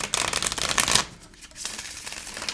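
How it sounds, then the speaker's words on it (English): Tarot cards being shuffled in quick riffling bursts, a brief pause, then another shorter shuffle, close up with no voices. "Okay, so I'm going to do two more shuffles."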